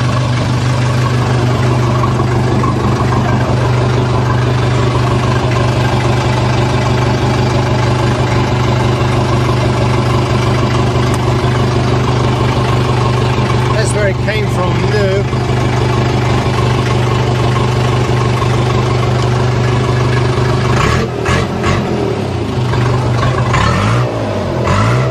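A 1982 Case 450B crawler runs with a steady, loud diesel drone, close up, with a shift in engine note near the end as gears engage, while someone talks over it.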